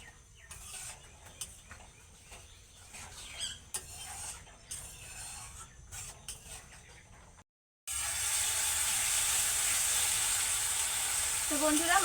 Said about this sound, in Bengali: মশলাটাকে কিন্তু আমি বেশ সুন্দরভাবে কষিয়ে নিয়েছি